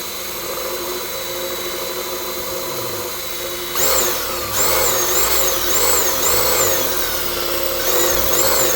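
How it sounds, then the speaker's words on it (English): Power drill boring into a mini bike motor bolt, a loud steady whine up close that rises in strain partway through, with pulsing wavering pitch as the bit bites into the metal. "basically drilling into that bolt."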